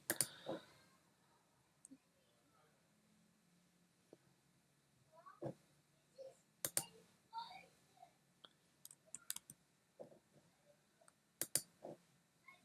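Mouse clicks on a computer while working with layers in Adobe Photoshop, a scattering of sharp, quiet, close taps spread irregularly through a near-silent room, some in quick pairs.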